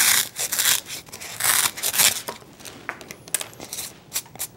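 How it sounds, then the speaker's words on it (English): A plastic knife cuts through a foam ball in a close series of crisp, scratchy slicing and tearing strokes, loud and uneven, with brief pauses between cuts and no talking. "The first thing you're going to do is cut apart your foam ball"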